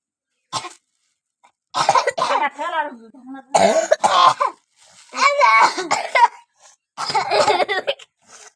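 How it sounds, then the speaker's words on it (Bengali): Several coughing fits, close and loud, break out between bursts of laughter and lively chatter from young people cooking at an outdoor picnic. "কাশি হচ্ছে আর আমরা হাসছি।"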